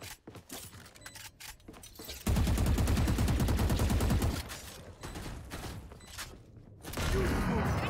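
Gunfire from the video game Valorant: a dense, loud burst of rapid shots fills the middle of the stretch, with scattered single reports and clicks before and after, and game sounds and voices mixed in.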